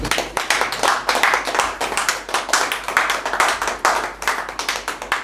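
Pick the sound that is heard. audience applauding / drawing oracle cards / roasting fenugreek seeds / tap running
audience applauding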